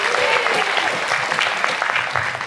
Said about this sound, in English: Let's give Ella another big round of applause.